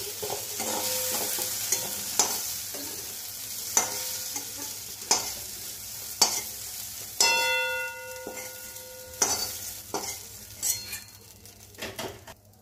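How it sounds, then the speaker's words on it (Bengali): Okra fries in hot oil in a pan while a metal spoon stirs and lifts it out, giving a soft continuous sizzle broken by repeated sharp scrapes and clinks against the pan. "দেখো ঢ্যাঁড়সগুলো ভাজা ভাজা হয়ে গেছে, আমি তুলে নিচ্ছি।"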